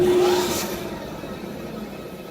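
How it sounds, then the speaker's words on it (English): The hydraulic motor of a press brake spins after start-up, a steady close whirring hum that eases slightly in level over a couple of seconds. "Now we're going to show you the motor spinning in a clockwise direction"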